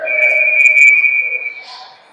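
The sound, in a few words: referee whistle at an ice hockey game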